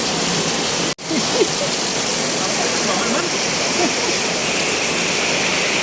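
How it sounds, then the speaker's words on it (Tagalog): Floodwater rushes steadily through a flooded relocation area in Peralta, a dense continuous roar close by, briefly cut by a sharp dropout near the start, with no talk over it. "Dito sa amin, grabe ka baha"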